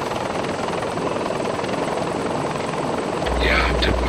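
Helicopter rotor in the military video game Arma during a JSOC operation, a steady loud whirring drone throughout with a low rumble and brief voices joining near the end.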